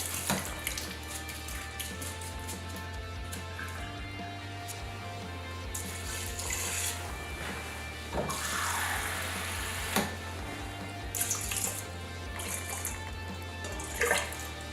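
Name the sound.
rinsing sushi rice under running tap water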